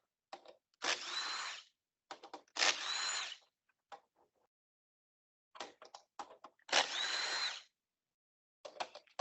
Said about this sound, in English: just go to the back of the unit and use the drill.